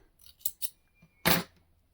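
Scissors snip through crochet yarn: two quick light clicks, then one louder, fuller cut, close and alone.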